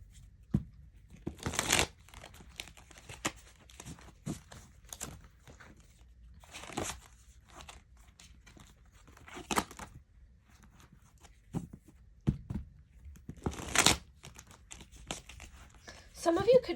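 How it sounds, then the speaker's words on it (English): Tarot cards are shuffled close up in a quiet room, producing scattered crisp riffles and slaps with a few louder bursts between softer rustling and pauses. "let's do a quick little shuffle."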